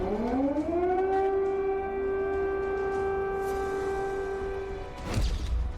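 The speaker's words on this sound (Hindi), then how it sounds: "24 घंटे से क्रेमलिन में सायरन बज रहा है।" Air-raid civil defense siren winds up and holds a steady, loud wailing tone, then cuts off near the end with a brief thump.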